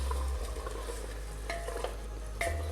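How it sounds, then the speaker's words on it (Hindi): Chicken pieces are stirred into gravy in a pressure cooker, with a spoon scraping and clinking against the pot over a soft, quiet sizzle and a low steady hum underneath. "मैंने चिकन के पीसेस शामिल कर दिए हैं। इसको मिक्स करेंगे अच्छी तरह से।"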